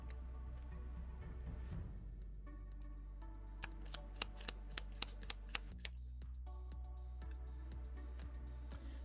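Tarot cards being shuffled by hand, a quiet riffling with a run of crisp, evenly spaced card snaps through the middle of the clip, close and alone over a faint steady hum.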